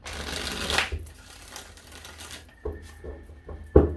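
A few quick riffles and soft papery slaps of tarot cards being shuffled, coming in short bursts with brief pauses between.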